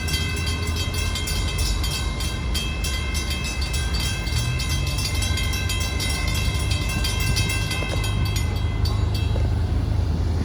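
Florida East Coast Railway freight cars rolling through an intermodal yard, a continuous loud rumble and metallic screech of wheels with steady squealing tones throughout, no voices.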